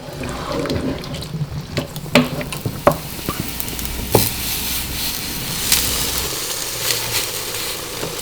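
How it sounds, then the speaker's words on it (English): Aubergines fry in a hot pan, a soft steady sizzle broken by clattering taps and scrapes of a utensil, close and with no talking. "I'm just frying off some aubergines, get some colour on them"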